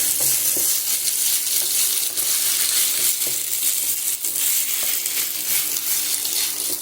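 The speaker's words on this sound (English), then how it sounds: "So now you can see the rice is frying nicely" Steady, loud sizzling of rice frying in a pan with salt and rosemary for Ghanaian angwamo, with occasional crackles and a few scrapes of stirring throughout.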